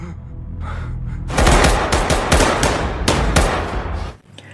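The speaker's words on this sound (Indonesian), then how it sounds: "Pemain yang masih ada di luar dipastikan tereliminasi mati ditembak." A burst of rapid automatic gunfire rings out as players in Squid Game are shot, loud and dense for about three seconds before cutting off, with no speech over it.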